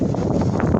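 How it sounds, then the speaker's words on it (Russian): Strong wind blowing through a village during a snowstorm at minus four degrees, a steady loud rushing gust buffeting the microphone with no pauses. "О, ветер."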